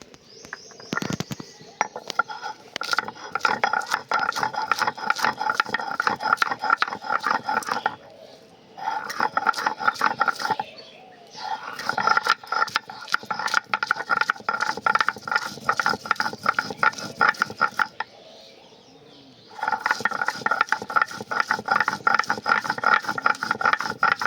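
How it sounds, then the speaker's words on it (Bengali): Green chillies, garlic and onion are ground into a spice paste for chicken paturi, giving a loud, close, rattling churn in three long bursts separated by short pauses. "এবার এই পাতুরির জন্য কয়েকটা মশলা আমি বেটে নেব।"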